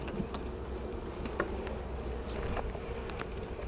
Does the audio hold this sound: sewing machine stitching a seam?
no